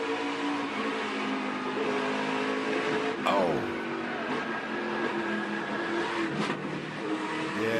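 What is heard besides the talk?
NASCAR trucks racing, engines revving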